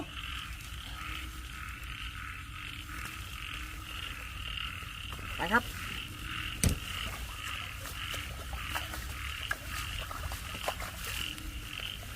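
Frogs croak repeatedly in an outdoor setting, with a steady chorus continuing throughout and a few sharp clicks and knocks nearby.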